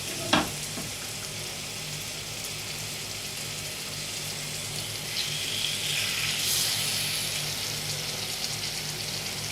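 Chicken pieces fry in melted ghee in a pan, a steady close sizzle after a sharp metallic clank at the start, with some stirring.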